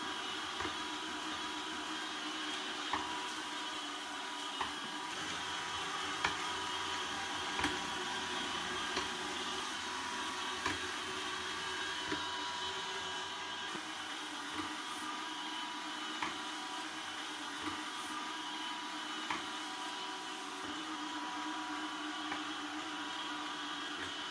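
A Yeedi Mop Station robot mop cleans the floor with a steady, faint motor whir and regular soft ticks and clicks recurring every second or two over a long stretch.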